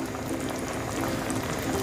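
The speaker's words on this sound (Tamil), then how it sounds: "வேக வச்ச பாஸ்தா நல்லா வெந்துருச்சு" Pasta boiling in a pot of water on the stove, a dense, continuous bubbling and simmering heard up close, steady and alone without any talk.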